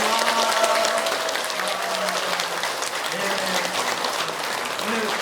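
Audience applause for a Buddhist temple's head monk at a dharma talk, steady continuous clapping from a crowd throughout, fairly loud, with faint voices underneath.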